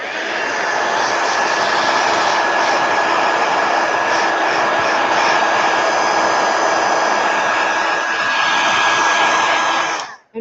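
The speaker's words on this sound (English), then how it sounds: "let me hit it with a heat gun" A heat gun blows steadily on a drying craft project, a loud, continuous airy whoosh with a faint whine that holds unbroken for about ten seconds before cutting off abruptly.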